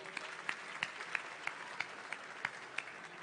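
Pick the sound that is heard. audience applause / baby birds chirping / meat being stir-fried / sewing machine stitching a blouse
audience applause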